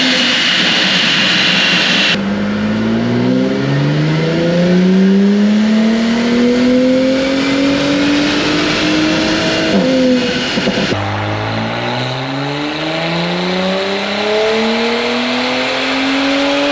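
Audi B9 with an Integrated Engineering stage 2 tune on 93 octane, turbo inlet pipe, intake, downpipe and mid pipes, revving hard on a dyno: a loud, rising engine pull swelling through the gears, then a second run climbing again, with no talk.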